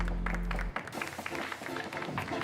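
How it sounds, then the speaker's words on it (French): Audience applause at the Brewer's Cup Open preliminaries of the French coffee championships in Marseille, following a competitor's brew presentation; steady, moderately loud clapping with crowd noise that starts after a low tone cuts off. "un tonnerre d'applaudissements"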